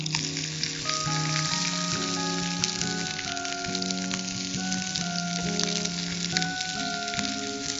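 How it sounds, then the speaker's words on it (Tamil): Onions, curry leaves and cashews sautéing in a pan for a brinjal masala, giving a continuous close sizzle and crackle, with steady tonal sounds running underneath. "இது நல்லா வதக்கிக்கலாம்."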